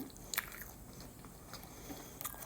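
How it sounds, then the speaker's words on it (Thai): A soft, close bite into a filled pastry with a sweet-sour filling, then faint moist chewing in a quiet room, with no talking. "ชิมไส้ก่อน"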